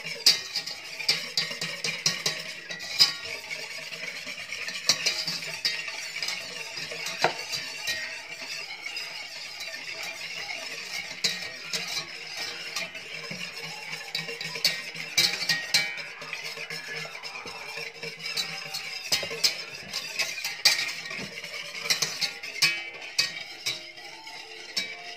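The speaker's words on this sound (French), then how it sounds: "Donc là je vais mélanger doucement." Cornstarch and sugar being stirred gently in a bowl, with a steady run of soft scraping and small clinks of a utensil against the dish, close and fairly quiet, no voices.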